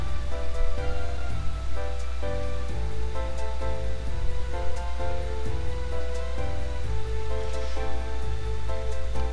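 Steady rain in the video game Mabinogi, a constant hiss of falling water beneath looping background game music with melodic notes throughout.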